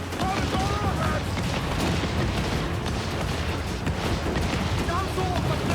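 Ship cannons boom and rumble during a naval battle in Assassin's Creed 4, a dense, loud barrage of heavy firing and explosions with shouted voices mixed in.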